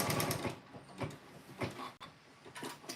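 A sewing machine stitches fabric triangles for a quilt block, a close mechanical whirring in short rapid bursts with one brief pause partway through.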